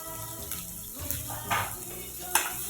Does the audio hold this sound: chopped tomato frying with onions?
yes